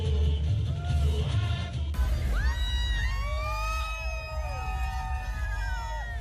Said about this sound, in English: That's the sound of parades and celebrations in Rio de Janeiro, Brazil, and in New Orleans